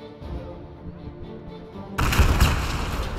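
In the video game Men of War 2, an artillery battery fires a volley: a quiet tonal music bed is abruptly cut by a heavy, booming roar that hangs on and rumbles for over a second.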